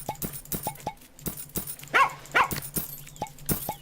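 Small dogs yap in the farming game Plantera, with quick repeated barks over a rhythmic ticking pattern and two louder, closer yelps near the middle.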